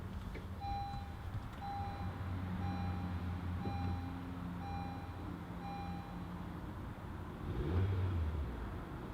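Push-button start on a 2017 Honda CR-V EX-L: a string of regular electronic chimes plays, then the engine cranks and catches near the end, settling into a quiet idle, with no speech.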